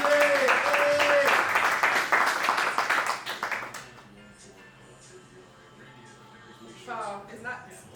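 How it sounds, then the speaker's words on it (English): Small audience claps loudly for CJ, a performer about to rap, with whoops and voices mixed in; clapping lasts about four seconds, then drops to quiet room noise with brief talk near the end. "Y'all clap it up for CJ one time."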